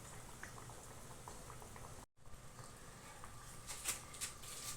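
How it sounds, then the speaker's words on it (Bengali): Cow's milk gravy bubbles at a steady simmer in a pot for chicken kofta curry, a soft continuous burble with a few brighter pops near the end and no talk. "এবার এটা ফুটুক এবং সেদ্ধ হোক"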